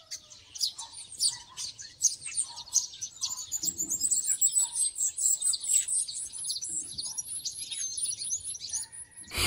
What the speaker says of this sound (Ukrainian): Добряче вміє маскуватися під голос кота, ластівки чи навіть солов'я, скрипіти як двері або імітувати телефонний дзвінок.